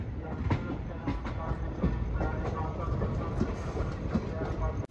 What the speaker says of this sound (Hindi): यहाँ लखनऊ चारबाग रेलवे स्टेशन के आउटर पे हमारी मुलाकात हो गई 22417 वाराणसी न्यू दिल्ली महामना सुपरफास्ट एक्सप्रेस से